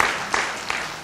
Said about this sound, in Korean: 한번 박수로 축복하죠